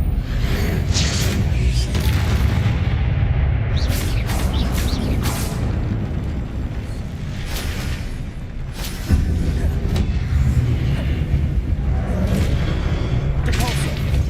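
Confringo blasting spells exploding in Hogwarts Legacy: repeated booms and whooshing blasts in fast sequence, loud and close, with spoken spell incantations over them.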